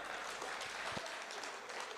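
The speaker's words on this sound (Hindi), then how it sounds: "एक बार जोरदार ताली बजा दो आप" Audience applause fills a Hindi poetry recital (kavi sammelan) as a continuous, faint wash of many hands clapping from a distance, with no voices standing out.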